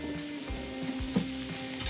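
Leftover pasta crisps in very hot olive oil in a pan with scallions, a steady close sizzle and crackle under low thumps from the pan, heard alone without talk.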